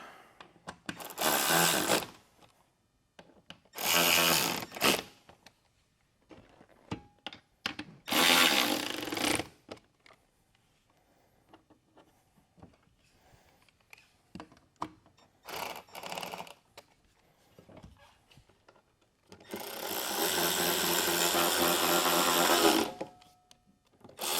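Power tool driving and tightening bolts on a Boat Logix triple mount for marine electronics displays, in five bursts of whirring: several short ones, then a longer final run, with quiet gaps between.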